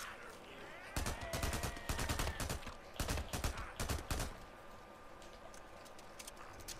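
Rapid gunfire in the video game Days Gone during a mine horde fight, sharp repeated bursts and single shots crackling in quick clusters over a constant background hiss, fairly quiet overall.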